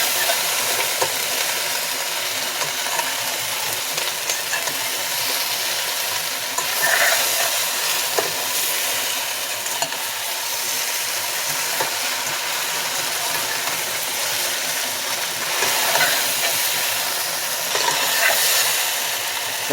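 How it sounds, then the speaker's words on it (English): A vegetarian curry being stirred in a pot, the spoon scraping in steady, close strokes over a continuous bright sizzle and hiss of frying, with a few louder scrapes standing out and no voices. "And stir again the pot."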